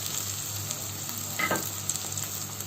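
Liver added to a hot pan with fried orzo-style lisan asfour pasta sizzles in a steady, loud, close frying hiss. A brief stirring scrape sounds partway through.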